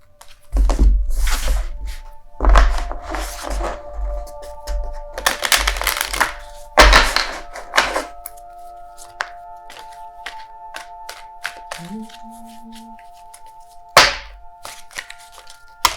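Tarot cards are handled and laid out on a surface: several crisp shuffling and slapping bursts, then quieter taps and slides of individual cards set down, close and clear, with a faint tonal hum underneath.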